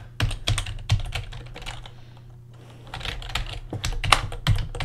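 Rapid clicking keystrokes on a computer keyboard, close and clear, in two bursts separated by a short pause, with no voices.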